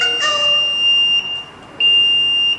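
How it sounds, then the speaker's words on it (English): A ZKTeco MA300 access control unit sounds its alarm output: a loud, steady high-pitched electronic tone that holds, drops out briefly, then resumes close by, with no talk. "system output alarm."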